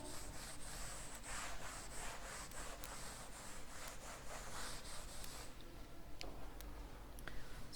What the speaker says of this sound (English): Rubbing the board.